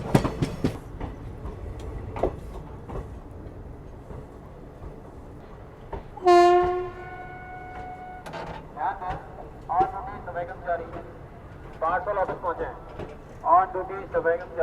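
A special train on the New Delhi–Howrah route arriving at a station, with a loud sustained horn blast midway over rumbling wheels and clatter, and a person talking nearby.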